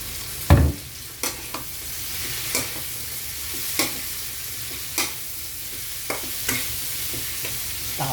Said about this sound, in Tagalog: Gisang-gisa ng ating kamatis, ilagay na natin ang ating tokwa.